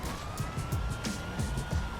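Wailing police car siren in GTA 5 Online, a steady rising and falling tone with rhythmic pulses, loud and continuous across the whole stretch with no talk over it.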